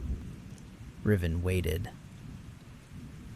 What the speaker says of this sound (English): Outside, rain hissed against stone.